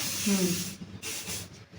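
Short bursts of hair shine spray hissing from an aerosol can in a beauty salon during a Hollywood wave hairstyle, a fairly loud spray at the start followed by fainter, broken puffs.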